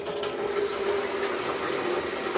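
Water pours steadily into a washing machine tub in a home laundry, a continuous close splashing rush that stays level and loud throughout with no voices.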